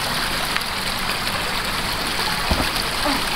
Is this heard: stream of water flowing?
yes